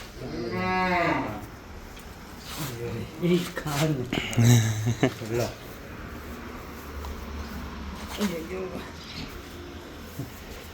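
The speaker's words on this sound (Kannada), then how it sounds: "ದೇಸಿ ಹಸು" A desi cow moos loudly once at the start, with a harmonic, drawn-out call, followed by people talking and handling sounds nearby in a large cow shelter.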